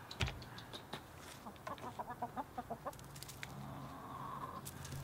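Backyard chickens in an urban homestead cluck in a quick run of short, close calls, with a few sharper squawks and a soft murmur of other hens behind.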